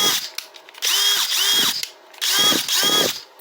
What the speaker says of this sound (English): we have the DeWALT 20V brushless drill. This is model DCD777